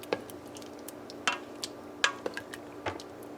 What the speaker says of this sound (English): Give it a bit of stir.